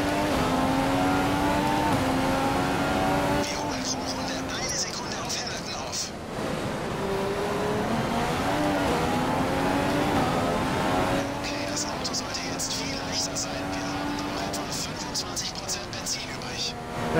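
Formula 1 race car engine in the F1 2015 video game at the Monaco Grand Prix, a continuous high-pitched whine rising and falling through gear changes, loud and steady, with someone talking over it throughout.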